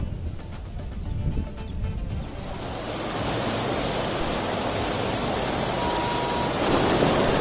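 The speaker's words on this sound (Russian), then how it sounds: "Я пришел на горную реку." A cold mountain river in the Chimgan mountains of Uzbekistan rushes in a loud, steady broadband roar that swells in after a quieter start, with some wind buffeting the microphone.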